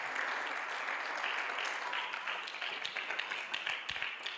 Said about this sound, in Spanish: Le puedo dar una ofrenda de palmas al Rey